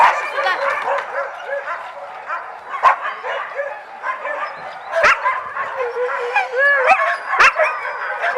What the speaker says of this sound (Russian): Потому что собаки сидят разные.